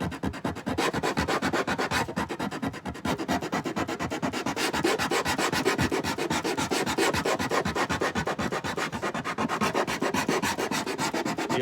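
Steady, continuous rasping of sandpaper on a flat block rubbed back and forth over the wooden bridge area of a vintage Gibson J30 acoustic guitar, close and loud, with a quick regular stroke rhythm and no voices.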